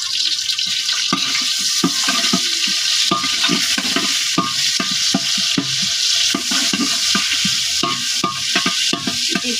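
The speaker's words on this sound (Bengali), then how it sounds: "তাই দিয়ে দিচ্ছি তেল তারপর দিয়ে দিচ্ছি আমি পেঁয়াজ" Onion sizzling in hot oil in a cooking pot, a steady close hiss broken by repeated sharp scraping and stirring knocks at an uneven rhythm, with no talking.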